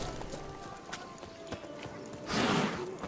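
Horse hooves clip-clopping across the ground in The Witcher 3, a steady run of soft thuds under game ambience, with a louder rush of noise near the end.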